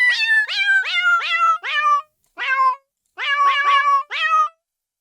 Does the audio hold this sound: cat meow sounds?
yes